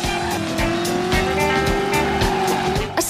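Car engine revving with tires squealing and skidding in Driver, a 1970s-set PlayStation racing game, a steady loud engine drone and screech running throughout with a sharp change near the end.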